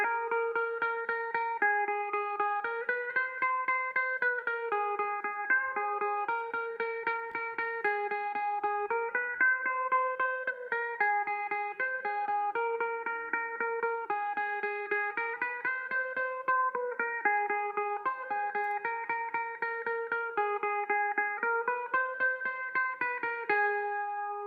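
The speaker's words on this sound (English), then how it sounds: "today we're going to be talking about this electric guitar here that plays out through the instrumental" Electric guitar run through effects plays the instrumental and bridge section of a pop song, a steady melodic line with sustained, shimmering notes throughout, moderately loud and clean with no talking.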